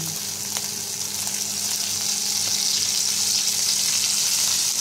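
Pork and chayote sautéing in oil in a pan, a steady loud sizzle and crackle throughout with faint occasional stirring clinks.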